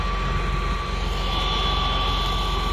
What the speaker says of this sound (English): This is what's called a soft core baler.